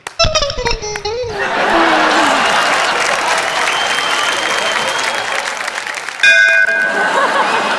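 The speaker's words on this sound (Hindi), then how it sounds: "आपकी ये जो घंटी है थोड़ी देर से बजी" On a Hindi comedy stage show, a bell rings briefly, then a crowd breaks into sustained applause, and the bell rings again near the end over the clapping.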